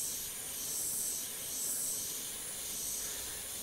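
An airbrush sprays paint close to a surface in a soft, steady hiss that swells and eases slightly over a few seconds, heard alone without talk.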